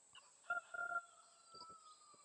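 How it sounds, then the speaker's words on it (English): Chickens acting up some distance away give a few short, faint clucks and squawks in scattered bursts over a quiet background, with no voices. "The chickens are over there acting up."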